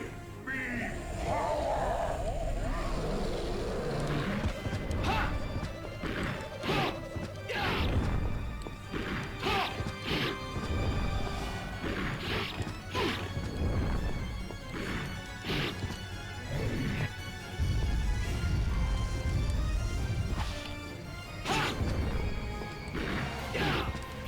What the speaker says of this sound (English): Shattering health bars in this game are like a really nice touch.